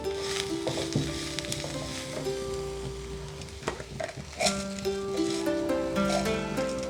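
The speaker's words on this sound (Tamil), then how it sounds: "இந்த கட் பண்ணி வச்சுருக்கிற இந்த ஒனியனை ஆட் பண்ண போகிறோம்" Chopped onion and chilli fry with chandi leaves in a pan, giving a steady close sizzle broken by scattered stirring clinks and scrapes, with no talking.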